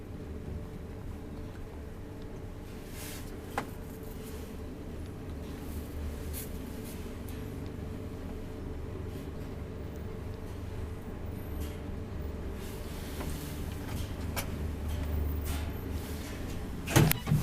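An old Valmet traction elevator rides quietly through its shaft, a low steady hum and rumble with faint clicks and rattles.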